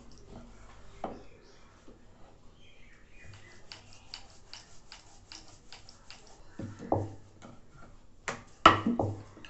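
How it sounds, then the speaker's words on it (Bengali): A rolling pin works a small ball of paratha dough into a round on a board. It makes a run of light, rhythmic wooden taps and clicks at close range, with a few louder knocks near the end. "রুটিটা গোল করে বেলে নিলাম"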